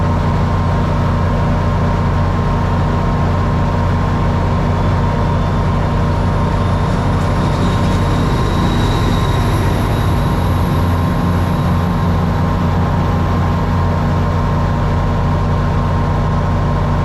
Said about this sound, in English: Metro North train 5149 roars past westbound on Track 1